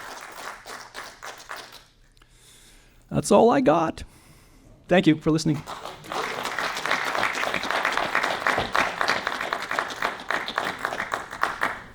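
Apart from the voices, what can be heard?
audience applause at award dinner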